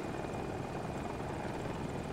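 Little Bird helicopter in the video game Battlefield 2042, heard as a steady, dense rotor and engine drone that holds constant throughout, with no talk over it.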